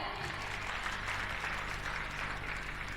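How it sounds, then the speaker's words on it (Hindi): Applause from an audience at an inspirational talk, a soft continuous patter of clapping with a low hum running underneath. "ताली बजाओ"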